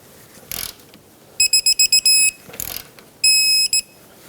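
A torque wrench tightening a rear shock bolt to 70 foot-pounds on a 2013-2020 Nissan Pathfinder gives two short bursts of rapid, high electronic beeps. Each run of beeps is followed by a longer held tone, with a brief noisy click before each run.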